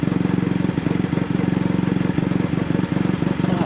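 An AJS motorcycle engine misfiring and running rough in second gear, with a steady low pulsing note and irregular stumbles, loud and close throughout.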